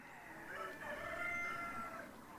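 A rooster crowing at a rooster sanctuary, one drawn-out, wavering call heard faintly at a distance and nearly filling the short moment.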